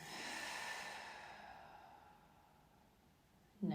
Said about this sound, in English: and a long exhale.